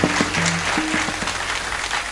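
An audience at a humorous kirtan performance claps vigorously in a dense, loud burst, with brief tonal sounds from instruments or voices briefly mixed in at the start.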